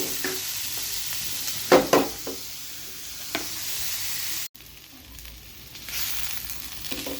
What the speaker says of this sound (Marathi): आपला कांदा परतायला सुरुवात झालेली आहे